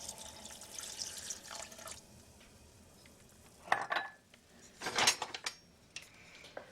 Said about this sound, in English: I'm going to pour in about a cup and a half of this Vouvray